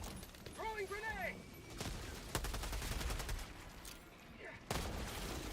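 Grenade explosions in a video game, several deep bursts and rumbling booms spread across the stretch, loud and close, with a voice talking over the start.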